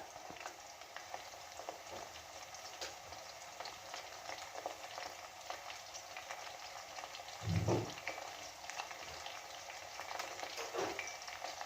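Chicken 65 frying in hot oil and being stirred gently, giving a steady, quiet sizzle with a brief louder stir near the middle and another soft one near the end.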